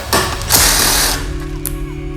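A hand ratchet clicks in short bursts while loosening a 10 mm airbox bolt on a 2017 Suzuki GSX-R1000 motorcycle. The clicks are close and fairly loud, with a few metallic touches after them.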